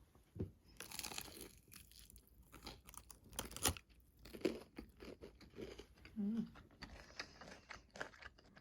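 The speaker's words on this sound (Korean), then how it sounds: "한국 치킨이랑 맛이 비슷할지 한번 먹어볼게요" Close, quiet crunching and chewing as someone bites into Japanese fried chicken with a thick batter coating and a white mayonnaise-style sauce. Irregular soft bites and mastication come through, with a brief faint murmur between them.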